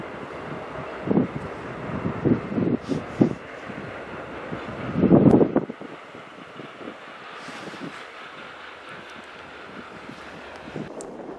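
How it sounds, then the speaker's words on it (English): Rumbling intermodal freight train rolling past with wind buffeting the microphone, louder thumps early on, then a steadier, fainter rumble as it continues. "Once the front of the intermodal train got by"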